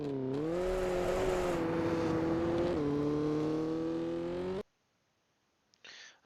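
A rally car's engine in Richard Burns Rally holds a steady, loud drone under throttle, with the pitch rising and dipping slightly before it cuts off abruptly, followed by near silence and a brief faint noise.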